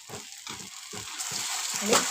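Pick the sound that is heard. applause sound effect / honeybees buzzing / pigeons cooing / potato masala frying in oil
potato masala frying in oil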